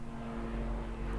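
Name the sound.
low-flying helicopter over the studio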